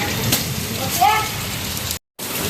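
Sudden heavy rain in rural Konkan drums in a steady close wash of noise, a faint voice briefly audible, before a short cut to silence near the end.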